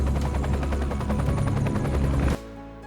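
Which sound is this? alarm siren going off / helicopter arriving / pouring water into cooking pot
helicopter arriving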